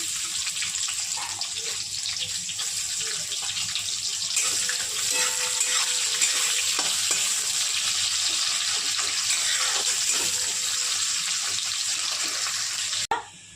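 Onion hisses and sizzles in hot oil with panch phoron, a steady broadband frying noise that is loud and close. It runs unbroken throughout, with faint clinks and scrapes, before cutting off abruptly near the end.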